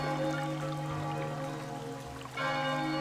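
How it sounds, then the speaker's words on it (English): The tolling bell of oblivion from Chocobo's Mystery Dungeon: Every Buddy!, a sustained, resonant ring with layered overtones that swells, dips briefly, then rings out again over a steady wash of background game sound. "Sounds like a bell ringing."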